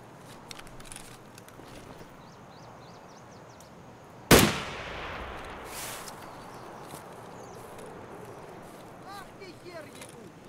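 A single sharp, loud gunshot from the video game Escape from Tarkov, with a ringing tail over quiet background ambience.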